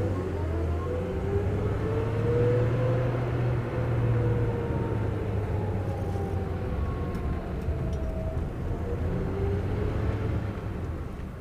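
A very original 1949 Pontiac Streamliner Silver Streak drives along, its steady low engine rumble and road noise holding continuously for the whole stretch, with faint tonal whine drifting in the midrange.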